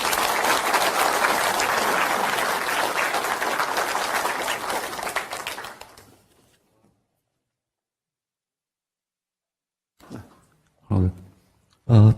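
Audience applauding after a lecture by a provincial deputy governor for social integration in Gyeonggi, Korea, sustained loud clapping for about six seconds that fades into silence, followed by brief speech.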